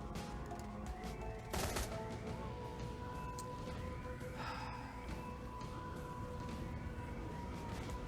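Burst-fire gunfire from the Shadowrun: Hong Kong video game cracks out amid a steady game soundscape, with one sharp volley standing out near the start and fainter shots trailing after.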